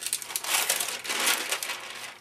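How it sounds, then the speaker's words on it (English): Adhesive tape pulled and pressed onto tracing paper, giving a close, continuous crinkling and rustling with brief louder crackles, heard alone without talk. "Tape it there, and just tape it there."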